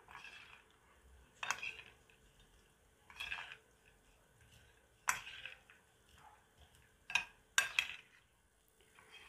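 Cashew nut salad with salt and lemon juice being tossed in a bowl, a quiet close sequence of separate clinks and wet scraping strokes spaced a second or so apart, with no talking.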